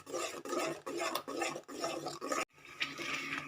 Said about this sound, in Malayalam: ഇതിൽ നല്ലോണം ഇത് ഇളക്കി നല്ല കുറുകി വരണം